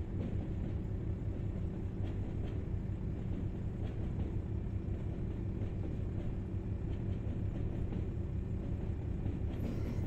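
A Class 101 diesel multiple unit runs steadily in Train Sim World 2020 with a continuous low rumble and faint rhythmic clickety-clack from the rails, loud and unbroken throughout.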